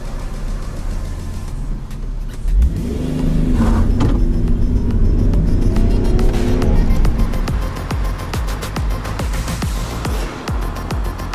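Mitsubishi 3000GT sports car engine pulling away: a steady, close engine drone that swells and rises in pitch for several seconds, then settles into a continuous hum with faint clicks, no talk.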